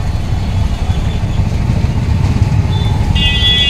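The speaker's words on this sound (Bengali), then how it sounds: "স্টেশনে গেট করেছে, লেভেল ক্রসিং এ আর কি জ্যাম লেগে গেছে সামনে।" Traffic is stuck at a railway level crossing near a station, with a loud, steady low rumble of idling engines close by and a brief high tone near the end.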